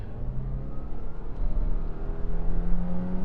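A 2024 Subaru Impreza Sport Tech with a 182-horsepower engine accelerates hard in sport mode, its steady engine drone rising in pitch as it builds speed, heard close from inside the cabin with no talking.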